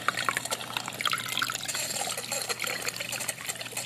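Water trickles and bubbles in a Catit Flower Fountain Mini pet fountain running low, a soft, close, continuous gurgle and dribble with small irregular splashes and no talk.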